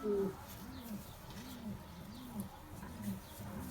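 A Küpeli Katranlı pigeon coos in a rhythmic series of low, rolling calls, fairly soft and close, repeating steadily without voices over it.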